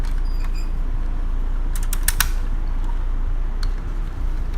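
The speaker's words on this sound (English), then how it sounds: "The grilled bumper in front of the Rhino has a Battering Ram feature." Plastic battering ram bumper on a 1980s M.A.S.K. Rhino toy truck being worked: a few small plastic clicks and a creak over a steady low background hum.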